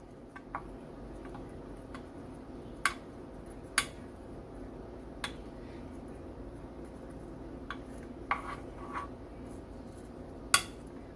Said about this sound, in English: Now you're going to take a butter knife and you're going to swirl it.